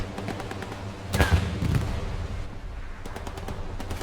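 Gunfire from a Grease Gun submachine gun in a World War II shooter set in Hurtgen Forest, a short burst of sharp reports near the middle standing out over a dense, steady background of distant battle noise.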